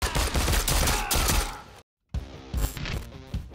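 Rapid bursts of game gunfire, dense and loud, cut by a brief silence before more shooting and mechanical clatter.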